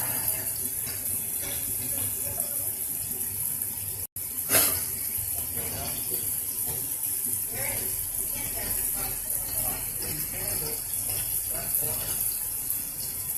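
A tap runs steadily and loud while skin is rinsed at a sink, the water rushing unbroken except for one brief cut, with splashes and faint talk mixed in.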